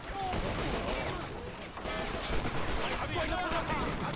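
Gunfire crackles in the World War II strategy game Men of War: Assault Squad 2 during a defense of the Stalingrad grain elevator, with machine gun bursts and shots running steadily throughout at a loud, busy level.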